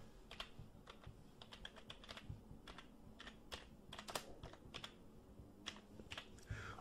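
Fast bursts of keystrokes on a computer keyboard, close and crisp, clattering in irregular clusters with short pauses between words while entering an asset name in home finance software; no voices.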